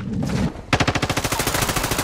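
Rapid automatic gunfire bursts loud and close in Call of Duty: Modern Warfare II, a steady stream of evenly spaced shots after a brief rumble, with no talk.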